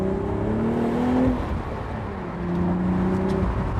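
A 2025 BMW Z4 M40i with a six-speed manual pulls hard in second gear with the windows down, its engine note rising steadily and then again after a brief dip, backed by steady wind buffeting.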